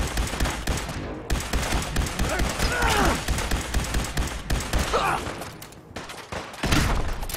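Bursts of gunfire in the video game Fallout 4, rapid overlapping shots with a few pauses, loud and close over game background sound.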